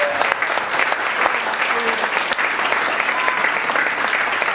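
Audience applause fills a city council candidate forum, a steady, dense clapping that holds loud and even throughout with no break.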